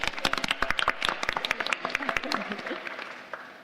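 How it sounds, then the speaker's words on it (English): A small audience claps at a student debate quiz, sharp uneven handclaps at a steady rhythm over about three seconds, easing off at the end, with faint voices mixed in beneath. "Round of applause, please."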